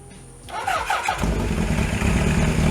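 A Kawasaki Z1R motorcycle engine cranks for about a second, then catches and settles into a loud, steady close-up idle with no voices.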